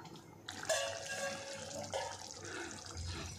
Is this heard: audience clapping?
no